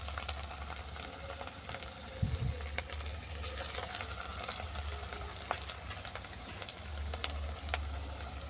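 Watermelon muitha dumplings fry in hot oil in a home kitchen with a steady, close sizzle and bubbling, and occasional faint stirring clicks, with no talking.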